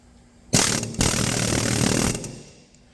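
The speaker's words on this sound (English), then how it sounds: "We're gonna hit her with the old air chisel." An air chisel hammers on a seized rear Subaru wheel bearing in one loud, rapid rattling burst of about a second and a half, stopping abruptly and leaving a quiet fading tail.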